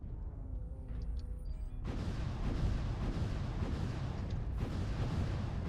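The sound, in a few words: mech weapons firing in video game MechWarrior Online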